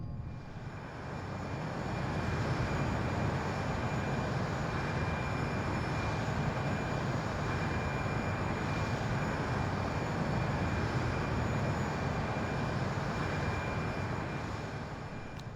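Steady airliner engine roar in flight, a broad continuous rumble holding level throughout with no talk, from a DD aircraft cruising near New York in X-Plane 11.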